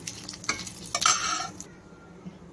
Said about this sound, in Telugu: కొంచెం జీలకర్ర అలానే నాలుగు ఎండుమిరపకాయలు ఇవన్నీ చక్కగా వేయించుకున్నాం